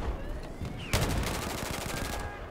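An M16A4 rifle fires in the Battlefield 4 video game, with faint shots early, then a loud burst near the start of the second second followed by rapid repeated gunfire and echoing battle noise.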